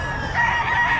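A rooster crows loudly and close by among chickens at a Batangas poultry market. The call is one strained, sustained crow over busy background noise.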